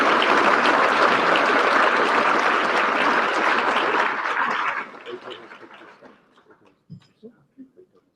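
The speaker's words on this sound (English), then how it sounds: "Round of applause." An awards-dinner audience claps loudly in a dense, sustained burst that fades after about five seconds into a few scattered claps and soft murmurs.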